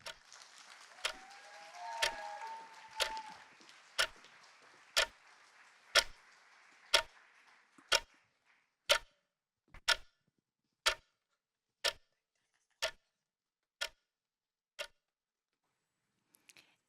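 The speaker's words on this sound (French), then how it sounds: "Est-ce le bruit d'une horloge" A clock ticks steadily, about one tick per second, clear and close; early on a faint tone and some background noise fade away, leaving the ticking alone.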